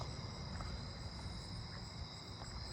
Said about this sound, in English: Southern ground crickets.